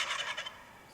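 A turkey lets out a single rapid gobble, a brief burbling trill that fades quickly, close and alone.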